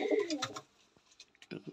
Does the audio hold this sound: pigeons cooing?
yes